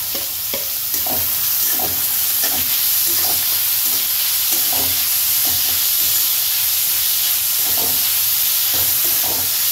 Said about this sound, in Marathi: या चांगल्या प्रकारे मिक्स करून घ्यायचा आहे कांदा